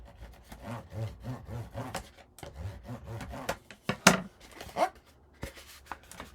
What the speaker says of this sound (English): make sure everything's pushed up to the top, and burnish.